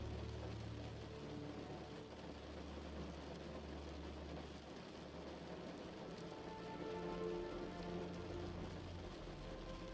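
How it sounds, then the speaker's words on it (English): Rain patters steadily against a window, a soft continuous hiss of droplets at a low, even level. "the gentle sound pattern of water droplets affirm your every relaxing sensation"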